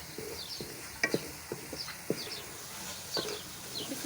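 Beef qima mince fries in a pan, with a soft sizzle under a series of sharp scraping and clinking stirring strokes at an irregular rhythm.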